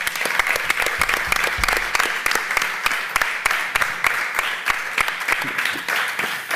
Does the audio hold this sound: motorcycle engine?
no